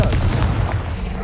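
The Confringo blast spell in Hogwarts Legacy erupts as a loud, dense burst of booming rumble that fills the short moment and fades slightly.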